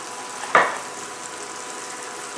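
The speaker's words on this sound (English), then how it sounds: "Oh, we like the sound of sizzle." Onions sizzle in butter in a pan as a steady, close frying hiss, broken by one short louder burst of crackle.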